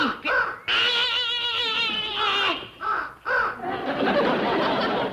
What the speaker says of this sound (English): That's that scarecrow you're sitting on, you stupid crow.